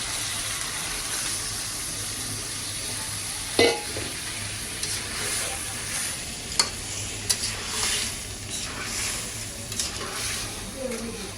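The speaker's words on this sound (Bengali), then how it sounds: "এবার আমি নারকেলের দুধটা পুরো দিয়ে ভিজিয়ে দেব।" Crab simmers in a pan with coconut milk, a steady close sizzle broken by a few spoon scrapes and clinks as it is stirred.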